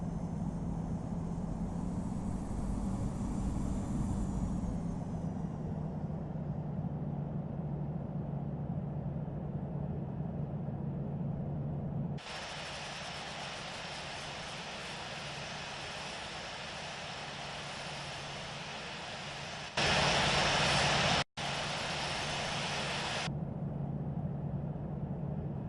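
A Boeing 747 airliner takes off in a flight simulator game, a steady loud engine roar building throughout with a broadband rush joining partway, all without voices.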